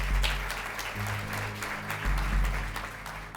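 Applause fills a courtroom, a sustained wash of many hands clapping at moderate distance, with a low steady hum underneath and no clear speech.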